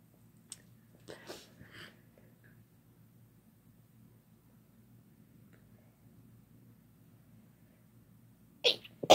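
Quiet room with a low hum, broken by a few soft sneezes near the start and a sharper, louder sneeze at the very end.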